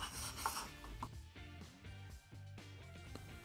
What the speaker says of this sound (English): So now let's try the Japanese sharpening stone with the exact same grit